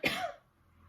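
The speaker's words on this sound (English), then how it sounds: "I need to cough again and I'm a bit conscious of that." One close, sharp cough from a tickly throat is followed by a brief throat clear, then quiet room tone.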